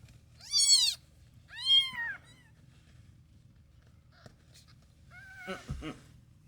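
Newborn kittens meow in high, thin, wavering cries, two clear calls near the start and a cluster of softer mewing near the end, over a low steady background hum.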